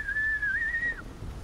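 A character in a Game of Thrones video game whistles for friends, a single sustained steady-pitched whistle lasting about a second over a low ambient background.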